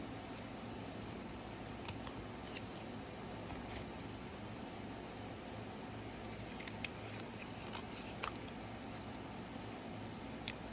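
Scissors trimming a collaged Rolodex card, heard as faint, scattered snips at close range over a steady background hiss, with no talk.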